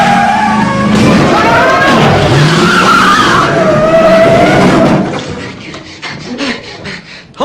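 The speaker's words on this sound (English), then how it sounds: "You just backed over a 2-foot concrete abutment. You didn't even slow down." A car reversing fast over a two-foot concrete abutment makes a loud, sustained scraping and grinding roar for about five seconds, then drops into quieter bumps and rattles.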